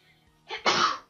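A single sharp sneeze with a short intake before it, close and fairly loud in a quiet room where someone is painting an illustration.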